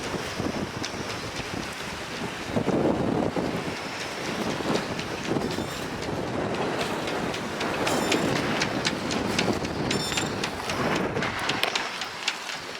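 Strong wind of about 25 knots gusts across a harbour opposite Argostoli, Kefalonia, roaring steadily into the microphone with rumbling buffeting and faint creaks or clinks from a moored sailboat.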